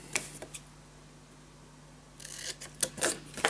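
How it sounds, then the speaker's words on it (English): Scissors cut paper along a fold line in quick, soft snips, a couple early on and a denser cluster near the end, close and quiet against a still room. "I'm gonna cut down the fold line"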